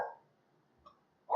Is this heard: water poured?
no